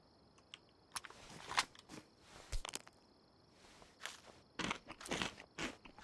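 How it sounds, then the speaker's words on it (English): A video game character chewing food, heard as irregular crunchy bites in scattered clusters, some sharper and louder than others, with quiet gaps between and no voices. "They'll hear me chewing away."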